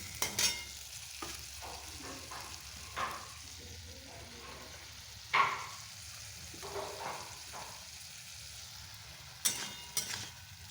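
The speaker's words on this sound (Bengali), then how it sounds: "আলুটাকে এখানে কষানো হচ্ছে" Potatoes sautéing in a pan alongside bitter gourd during home cooking, heard as a soft intermittent sizzle with occasional louder clatters of a utensil against the pan.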